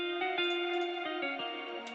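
Ample Guitar LP virtual guitar part doubled an octave higher at low velocity, giving soft, shimmering picked chord notes that ring together in a steady pattern at a gentle level, with no voices over it.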